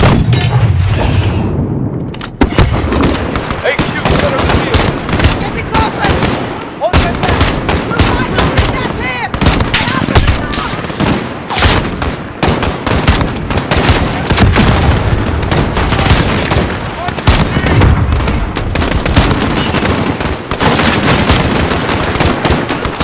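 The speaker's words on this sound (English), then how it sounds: "See where they're shooting from!" Enemy gunfire in Call of Duty Modern Warfare during an embassy firefight: loud, dense bursts of automatic rifle fire and sharp cracks that continue throughout, with shouted voices mixed in.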